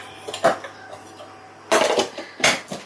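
Whole spices hitting a hot pan for vegetable biryani, a few sharp clattering impacts and sizzling crackles in short bursts against a quiet kitchen background.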